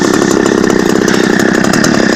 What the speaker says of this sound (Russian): Вот новая, она проходит сейчас обкатку, дрынчит.